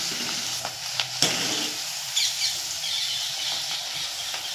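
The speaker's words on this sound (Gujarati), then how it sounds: "ગિલોળી ફ્રાય કરું છું" Ivy gourd pieces frying in a hot pan give off a steady, close sizzle with soft crackles, a few sharper clicks and stirring scrapes, and no talking.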